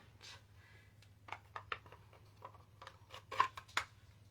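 Scissors cut out red stamped paper hearts in a quiet room, a series of crisp, close snips and paper rustles coming in uneven bursts over a low background hum.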